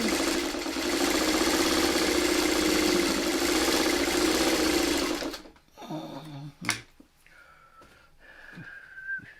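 A sewing machine stitches quilt pieces together in a loud, steady rapid whir that stops abruptly partway, followed by quieter handling clicks and rustling.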